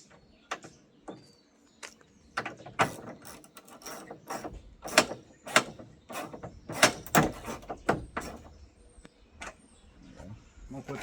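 A ratchet wrench clicks in short, uneven bursts while a rear window is being fitted. The clicks come close by and grow busier toward the middle, with soft handling noises in between.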